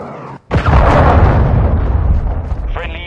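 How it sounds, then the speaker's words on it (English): A cruise missile strike in Call of Duty: Modern Warfare II lands as a sudden, very loud boom after a brief hush, followed by a long, rumbling roar that slowly fades, with a short radio-style voice at the end. "Friendly cruise missile inbound."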